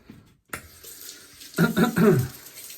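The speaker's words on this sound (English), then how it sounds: "what I'm gonna do real quick here is just rinse off my face" Tap water runs into a sink while a man rinses his face after a wet shave with a Muhle Rocca razor, starting with a soft trickle and then surging into louder splashing as hands scoop and pour close by.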